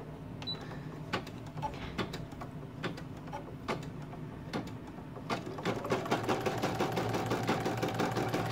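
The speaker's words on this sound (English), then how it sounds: "now it's going to do the final satin stitch around the outside of the bow" An embroidery machine stitches a satin-stitch border around a bow, its steady rapid needle chatter close and continuous, with sharp mechanical clicks every second or so and the stitching growing denser and louder toward the end.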